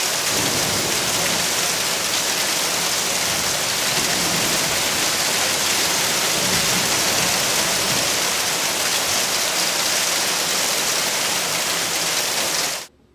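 Heavy hail and rain pound down in a continuous dense roar with no pauses, loud and close, steady across the whole stretch before cutting off abruptly at the end; no voices are present.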